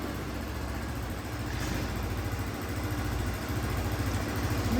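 A 2014 Daelim VL 125 Daystar fuel-injected 125 cc cruiser motorcycle engine idling nearby, a steady low throbbing pulse with even rhythm and no voices.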